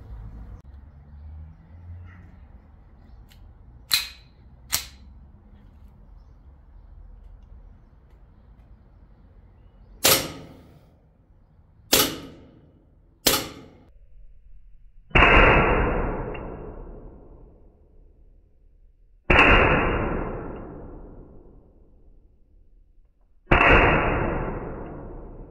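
Walther PPK/S CO2 air pistol firing: two quieter pops, then three sharp shots, then three louder cracks each followed by a long decaying ring, spaced a few seconds apart with no talking.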